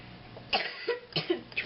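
A person coughs in a kitchen while chili is being made: a few short, sharp coughs spaced over under two seconds, close and fairly quiet, with no talking.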